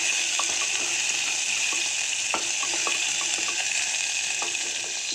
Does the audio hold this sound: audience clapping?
no